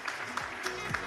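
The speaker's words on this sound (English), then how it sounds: "So give a round of applause to Ms." Audience applause at a livestock and feed industry symposium, a brief spell of steady clapping from a seated crowd under faint voices.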